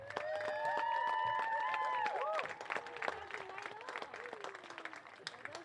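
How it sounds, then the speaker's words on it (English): A crowd at a high school boys soccer game applauds the class of 2025, loud clapping and whistles at first, then thinning to scattered claps and cheers with voices talking over it. "another round of applause for the Ashland Boys Soccer class of 2025"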